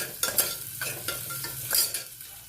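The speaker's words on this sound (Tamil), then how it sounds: "அந்த பூண்டையை நம்ம வந்து போட்டுக்கணும் அதையும் போட்டு வதக்கணும்" Garlic sizzling in a pan as a utensil stirs and scrapes it, with short rhythmic scraping strokes over a steady low fry.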